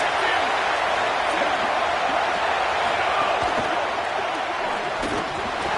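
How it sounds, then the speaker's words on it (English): Stadium crowd at a USC vs Alabama college football game, a dense, steady roar of cheering and noise filling the whole stretch without pause, loud and continuous as if trying to rattle the structure during a defensive play. "Listen to this crowd just shaking the girders of this place, trying to help their defense."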